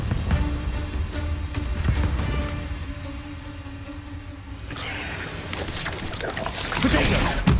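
Confringo blasting spell in Hogwarts Legacy, bursts of crashing, booming impacts and crackling debris under combat noise, with a loud final blast near the end; a voice speaks over part of it.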